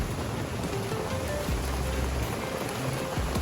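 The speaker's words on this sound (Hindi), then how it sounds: "और अच्छी खासी जोरदार बारिश हो रही है।" Heavy rain pours down steadily, a dense close hiss of drops on surfaces continuing throughout with no pauses, without any voices over it.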